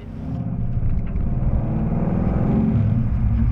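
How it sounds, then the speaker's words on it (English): Heard from inside while driving on the street, a 2013 Ford Mustang GT fitted with a Cobra Jet intake manifold gives a deep, steady engine rumble that swells slightly and holds loud and close. "Here is 2013 GT with the Cobra Jet setup."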